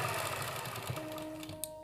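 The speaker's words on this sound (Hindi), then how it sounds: "तो हुण आपां फिटिंग दी सिलाई लगानी है।" Sewing machine stitching the side seam of a ladies' pocket undershirt, a steady close mechanical whir running the whole short stretch with rhythmic needle pulsing, no talk.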